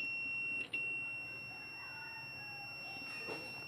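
A Samwa YX-360TRE-L-B analog multitester sounds its continuity buzzer while its probes touch a shorted component. A steady, thin, high electronic tone runs faintly through the whole stretch, with one brief dip near the start.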